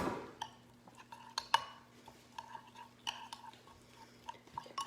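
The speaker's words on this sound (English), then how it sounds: "Gonna get a spoon, stir this all together" A spoon stirring a thick sauce mixture with lemon in a bowl, soft scraping and a run of light clinks against the dish, quiet and close, with no talk.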